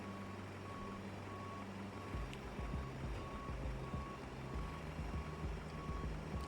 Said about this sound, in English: Real bus coming now.